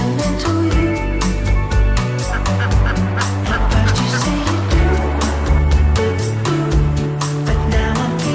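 Ducks roam outdoors, with loud, frequent rhythmic quacking and honking calls close by that run continuously across the whole stretch, several birds overlapping.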